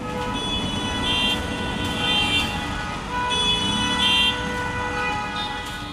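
Dense city traffic jam in Delhi, with several car horns honking intermittently over a continuous rumble of engines under the repeated toots.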